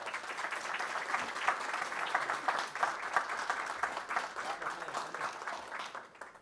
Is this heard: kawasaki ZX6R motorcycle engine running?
no